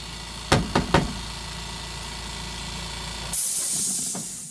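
A mini sand blaster with a clogged nozzle, used to strip paint from die-cast toy cars: a few sharp knocks come first, then a sudden steady blast of air hiss runs close and loud to the end.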